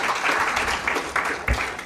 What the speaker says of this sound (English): Clap for him, please, as he comes to address.